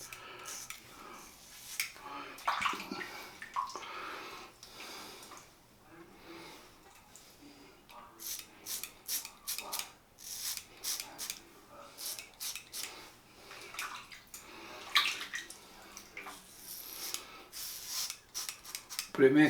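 Leaf razor shaving a head, soft scraping and rasping strokes in quick irregular bursts, fairly faint and close, with occasional speech in the background.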